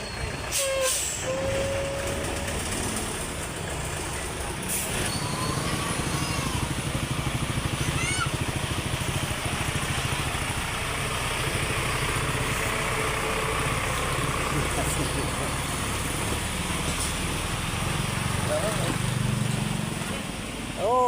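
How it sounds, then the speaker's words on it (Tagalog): Heavy traffic crawls along the Maharlika Highway, trucks idling and rumbling nearby with sharp air-brake hisses breaking through, while a man calls out excitedly over the engine noise throughout. "Ang traffic!"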